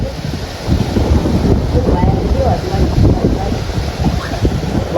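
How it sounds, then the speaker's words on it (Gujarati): Strong stormy wind blowing hard outdoors, a loud continuous roar buffeting the microphone with gusty rumbling surges throughout. "જબરજસ્ત વાયરો જો."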